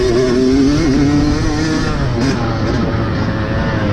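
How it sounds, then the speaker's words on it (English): A motocross bike engine races around a grass track, its steady, loud drone holding close and continuous with small shifts in pitch as the throttle varies, and no voices present. "The bike's running great."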